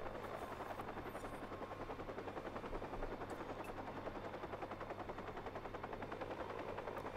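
A helicopter in the video game Watch Dogs, its rotor chopping steadily and loudly overhead with a continuous engine drone, close and unbroken for the whole stretch.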